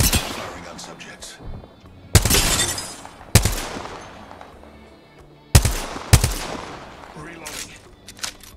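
Repeated gunfire in Apex Legends, with several sharp loud bursts and shots spaced irregularly across the stretch, some close and punchy, layered over game ambience and occasional voice lines.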